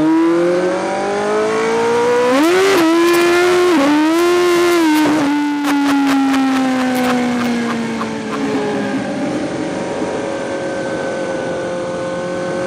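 A street-legal drag motorcycle accelerates hard through its gears, each upshift marked by a sharp dip and a fresh rising engine whine, loud and close. The note then winds down into a long, fading deceleration.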